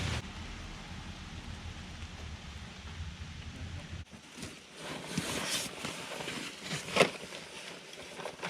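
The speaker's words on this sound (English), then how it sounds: "as the rain starts falling, put your backpack on" Rain falling along a forested hiking trail in Great Smoky Mountains National Park in humid August weather, a steady close hiss of drops that shifts midway to sharper, patchier spatter, likely striking an umbrella.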